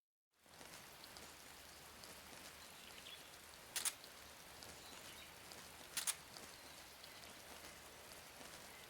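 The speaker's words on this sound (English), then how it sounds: "You shouldn't be able to hear me in the rain." Steady, soft rainfall in the video game Metal Gear Solid 3: Snake Eater hisses throughout, with two brief sharper taps partway through.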